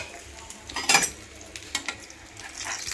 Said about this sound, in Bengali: এবার আমি পাতুরিগুলো একে একে দিয়ে ভেজে নেব